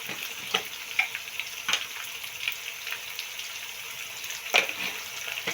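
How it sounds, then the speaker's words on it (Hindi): Quiet sizzling of spices and coriander powder frying in a pan with tomato, with soft scattered crackles and a few louder pops; no talking. "इन मसालों को हम अच्छी तरह भूनेंगे"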